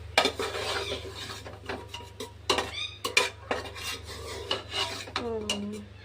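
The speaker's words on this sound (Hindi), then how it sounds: "चावल डाल दिए, इसको मिक्स करते हैं" Cooked rice being mixed with masala in a pan for home-style fried rice, heard as close, uneven scraping and rasping strokes of a spoon against the pan with occasional metallic clinks, alone and without talk.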